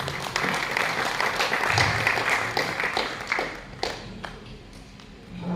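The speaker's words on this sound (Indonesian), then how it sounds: "Mari kita tepuk tangan yang meriah." Applause from a church congregation at a leadership election in Mimika: a dense, fairly loud burst of many hands clapping that gradually thins out toward the end.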